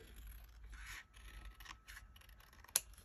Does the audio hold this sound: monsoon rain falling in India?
no